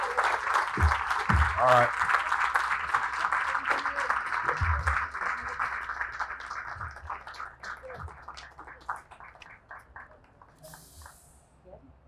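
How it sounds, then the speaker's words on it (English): A round of applause from an audience at a downtown Aurora apartment development event, clapping alongside a speaking voice and gradually fading out toward the end. "Let's give them a round of applause as they come up to the stage."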